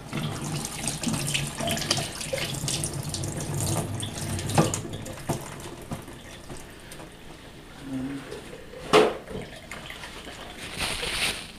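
Tap water runs steadily into a sink while an old, corroded coin is rinsed off beneath the stream, a continuous splashing wash with a few brief knocks and clunks against the basin.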